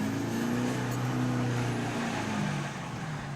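A car engine running with its sound boosted through the exhaust, a steady loud low rumble with slight pitch changes, no talking.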